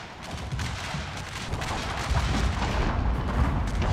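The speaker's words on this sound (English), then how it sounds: "Just a terrible volley here." Musket volleys crackle and boom in a Gettysburg battle video game, a dense, continuous roll of overlapping gunfire that swells louder toward the end, with no voices.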